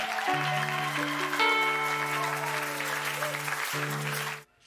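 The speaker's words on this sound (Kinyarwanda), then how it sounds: "twongere tuyikubitire amashyi tuyikubitire amashyi" A church congregation claps steadily in a broad, hissy wash over sustained keyboard chords, then the sound stops abruptly at the end.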